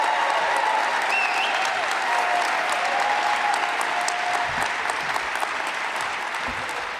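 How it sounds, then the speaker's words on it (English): A big round of applause for a conference championship and NCAA tournament basketball team at a Colorado State coach introduction, a loud, dense wash of clapping from a large crowd that holds steady and fades slightly near the end. "how about a round of applause"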